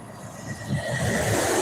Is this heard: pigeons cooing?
no